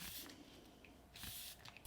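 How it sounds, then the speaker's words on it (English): Hourglass Veil Soft Focus setting spray mists onto a face, soft close breathy hissing bursts, one near the start and another longer one midway, quiet with faint handling noise between. "I'm going to use the new Hourglass Veil Soft Focus Setting Spray"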